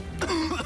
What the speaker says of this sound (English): just because I'm coughing